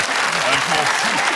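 Brief burst of audience clapping for footballer Franck Ribéry on a comedy show, a dense patter heard under an overlapping voice.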